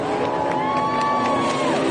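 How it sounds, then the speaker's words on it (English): Spectators at a powerboat racing event in Morgan City, Louisiana, cheer and whoop from a distance under a droning race boat engine whose pitch rises and falls, a brief, loud, continuous wash of noise. "That's his crowd cheering you here."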